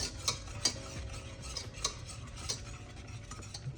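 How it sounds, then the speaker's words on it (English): Pastry cream being whisked in a saucepan gives a steady, quiet scraping and stirring, with light metallic clicks of the whisk against the pan repeating every half second or so. No one speaks. "Using your whisk, just keep going."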